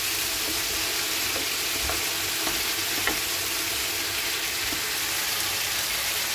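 Okra and potatoes seasoned with salt and turmeric fry in hot oil, giving a dense, continuous close-up sizzle with faint stirring clicks and no voices.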